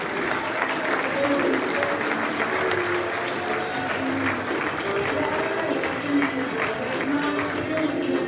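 A room full of people bursts into loud, sustained applause for the Chamber President at a Percolator Breakfast, dense clapping running steadily throughout with crowd noise and scattered voices mixed in.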